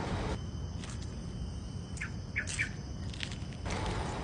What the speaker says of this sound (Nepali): चराहरूको चिरिबिरी आवाजले मनमोहक दृश्यसँगै हाम्रो यो बुकिजम्बुल हाइकिङ ट्र्याक धेरै रमाइलो बनायो।